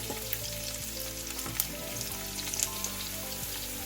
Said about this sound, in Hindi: दोनों को आप इस तरह थोड़ा सा फ्राई कर लें।